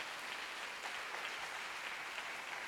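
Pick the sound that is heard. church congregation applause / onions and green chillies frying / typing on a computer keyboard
church congregation applause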